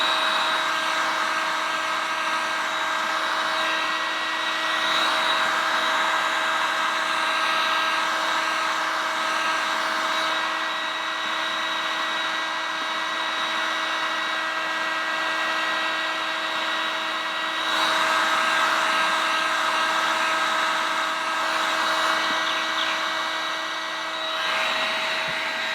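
A heat gun runs steadily while warming the plastic casing of a Honda 2200i generator, giving a continuous, close, hair-dryer-like whirring hum with a constant tone and only slight swells across about 26 seconds.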